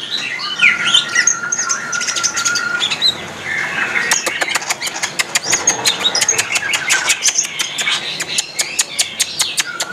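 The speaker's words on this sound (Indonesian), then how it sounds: "Sekarang kita pantau dari burung cicak hijau ini ya." A caged green leafbird calls loudly and close by, mixing whistled phrases and squawks with rapid, repeated sharp clicking notes, amid other busy chirping in a bird shop.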